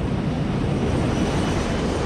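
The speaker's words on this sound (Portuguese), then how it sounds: "agora o Airbus está caindo em parafuso em direção ao solo a aterrorizantes 70 metros por segundo" An Airbus airliner spinning down toward the ground after a stall makes a steady, loud broadband aircraft roar with a dense low rumble and rushing noise that holds constant throughout, with no voices.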